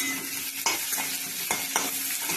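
Onions frying in oil until browned, a continuous bright sizzle with several stirring scrapes at irregular intervals, close up, no voices.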